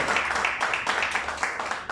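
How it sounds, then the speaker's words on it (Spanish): A church congregation at a Sunday service claps in a warm, steady burst of applause praising God, many hands together at moderate loudness, continuous for a couple of seconds. "Démosle un aplauso fuerte a nuestro Dios."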